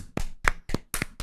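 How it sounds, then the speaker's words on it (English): A few separate hand claps, five sharp slaps with short gaps between them, close and fairly loud with no voices around them. "I'm gonna applaud it then."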